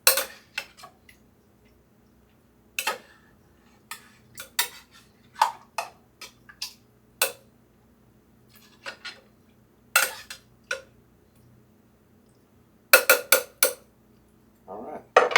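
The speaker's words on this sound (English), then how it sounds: "Give that a little mix. Make sure our meat gets it all coated" A utensil scrapes and clinks sporadically against the crock of a slow cooker while beef teriyaki is stirred and coated in sauce, short sharp taps scattered over near-silence, with a few clustered strikes near the end.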